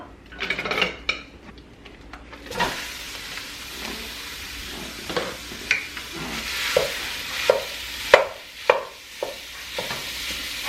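Sausage browning in olive oil in a pan over medium-high heat, a steady sizzle broken by occasional scrapes and clinks of a utensil against the pan.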